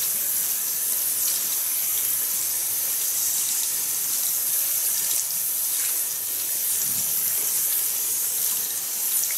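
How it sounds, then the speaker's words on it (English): Warm water gushes steadily from a salon sink tap during a hair wash, a loud continuous hiss filling the whole stretch with no talking. "Take nice medium warm water."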